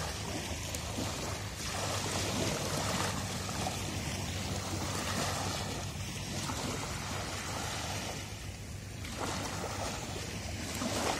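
Sea waves rolling in with the incoming tide on a beach at Phi Phi, a steady broadband wash of surf with swelling surges, mixed with wind buffeting the microphone and no speech.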